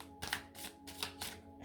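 Tarot cards handled and laid down in quiet succession, several soft papery slaps and brushes in a loose rhythm, close and fairly faint, with no talk.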